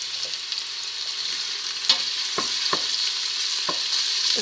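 Garlic fries in a pan with a steady soft sizzle, near and moderate in volume, with a few sharp spoon taps and stirring scrapes scattered through and no talking.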